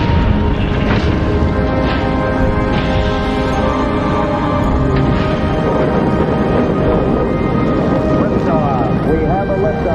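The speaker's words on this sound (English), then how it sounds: "We have a liftoff, 32 minutes past the hour. Liftoff on Apollo 11." Saturn V rocket lifting off with Apollo 11: a continuous, loud, broadband roar with a crackling rumble holds steady throughout, with launch commentary heard over it.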